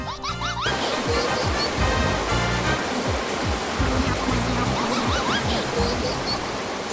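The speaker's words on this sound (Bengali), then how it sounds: "বিন থেকে জল বেরোচ্ছে কেন?" Cartoon water gushing out of a bin: a loud, continuous rushing wash that holds steady throughout, with faint tonal effects layered over it.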